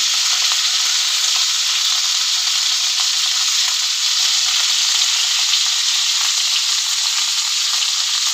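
Cauliflower and hilsa fish fry in a pan with salt and turmeric, giving a loud, steady, continuous sizzle with faint stirring scrapes throughout.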